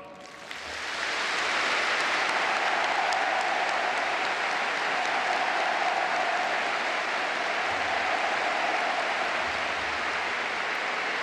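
A large crowd in Pyongyang claps loudly and continuously for President Moon Jae-in, a dense, sustained roar of applause that swells quickly and holds steady for several seconds.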